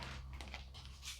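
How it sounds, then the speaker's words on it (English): A dog with an ear infection whimpers and pants softly, a faint, close, continuous sound with a few brief higher whines and no talk. "that was my dog."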